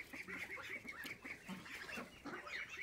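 A flock of geese honks continuously overhead, with overlapping calls at a steady, moderate distance and no talking.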